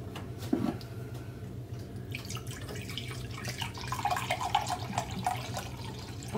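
Brown vinegar pouring into a measuring cup, a faint liquid trickle and splash that rises after the first couple of seconds, close but quiet over a low background hum.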